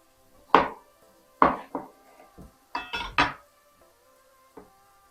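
Tomato being sliced into rings with a knife on a board, a handful of distinct crisp chops spaced irregularly with quiet gaps between them, close and fairly loud; no talking.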